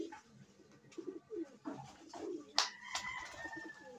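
Pigeons kept by a fancier coo softly at close range, a series of low, throaty murmured calls repeating over a few seconds with one brief sharper sound mid-way.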